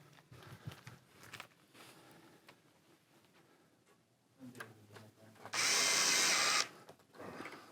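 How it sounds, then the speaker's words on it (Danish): A power drill drives a screw to fix a roller insect screen door in place, a single loud burst of about one second near the end after quieter handling sounds and taps. "Skruer den fast."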